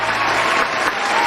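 A brief burst of applause from a small group on a podcast, dense clapping held evenly for just over a second.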